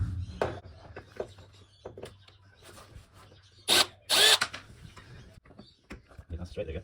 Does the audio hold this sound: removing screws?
yes